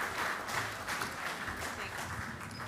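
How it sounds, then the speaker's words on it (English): An audience at a farming talk on precision lambing gives a steady round of applause for the sheep speakers, a moderate, continuous patter of clapping that holds evenly throughout. "can we have a round of applause for our sheep speakers?"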